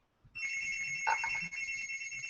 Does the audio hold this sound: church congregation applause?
no